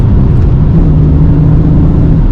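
A 1996 Alfa Romeo 155 with a V6 engine pulling above 4,000 rpm, a steady, loud, close engine drone with no talking.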